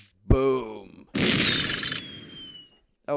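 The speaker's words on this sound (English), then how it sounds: "Fire in the hole! It's a cannon!" A cannon fires during a CEO boss battle in a video game: one loud, broad blast about a second long with a whistling tone, then a fading rumble. A voice speaks just before it and briefly after.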